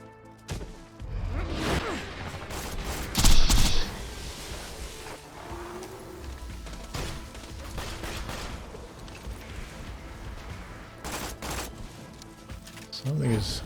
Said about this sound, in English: have this spider tank way back here shooting rockets at us